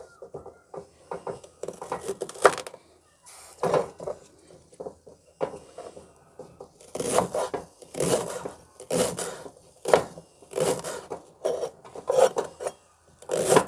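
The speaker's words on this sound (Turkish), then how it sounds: "Şurada doğrayayım onları da." A knife chops leeks on a cutting board for cabbage soup, making repeated sharp, close knocks and scraping strokes that come in irregular bursts, each a quick run of cuts with short pauses between them.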